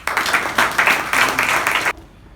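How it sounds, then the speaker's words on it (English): An audience at a Toastmasters meeting claps, a full round of steady, moderately loud applause that stops abruptly near the end, leaving quiet room tone. "Another round of applause for brilliantly"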